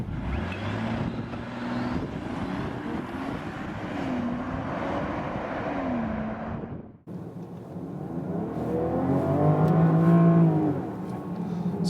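A 2022 Range Rover Velar P400 inline-six engine pulls hard under acceleration in sport mode, pitch climbing through gears, then a brief cut before a louder, rising rev from inside the cabin.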